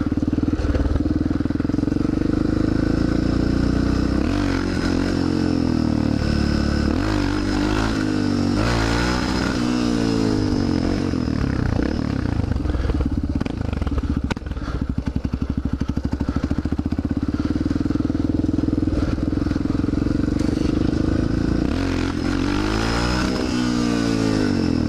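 A motorcycle revs hard in repeated surges as the rider attempts a wheelie, the engine loud and close, rising and falling in pitch across the whole stretch.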